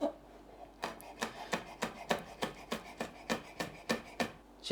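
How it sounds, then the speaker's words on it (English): A knife slices through cayenne chili peppers on a cutting board, about a dozen crisp, evenly spaced chops close up and alone. "The cayenne I will cut up to go in my soup."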